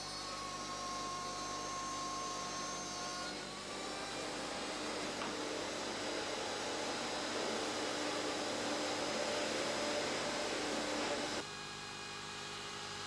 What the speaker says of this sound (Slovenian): Stroj, imenovan optični rezalnik, sestavljata dva dela: kopirni in izrezovalni del.